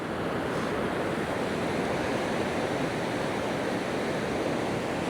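Surf breaking on a gradually sloping beach with plenty of white water, a dense continuous wash of foam and waves at golden hour with no voices.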